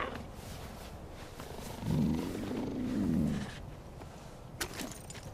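Peaches, a cougar in Far Cry 5, purrs in a low rumbling swell that rises and falls over a couple of seconds, close but fairly soft, over quiet game ambience with a small click near the end.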